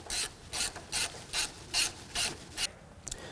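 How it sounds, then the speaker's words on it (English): A ratchet tightens the drain plug on a Polaris RZR RS1 in about seven quick, evenly spaced bursts of close, crisp clicking, then stops. "We'll reinstall the plug and torque to the spec in our owner's manual."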